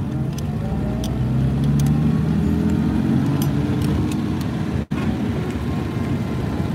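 A 1956 AC Ace on the move, its engine a steady, loud drone with constant road and wind rumble throughout and one brief dropout near the end.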